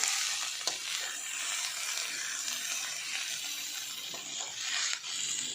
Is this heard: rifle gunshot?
no